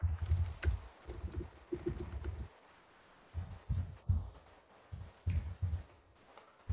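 Typing on a new computer keyboard while setting up a network spoofing attack, heard as close bursts of keystrokes with dull thumps, broken by short pauses.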